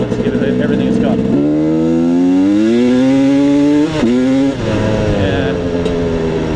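Husaberg 300 motorcycle in third gear, engine revving hard as it accelerates with a rising pitch, loud and close, briefly easing off before pulling again.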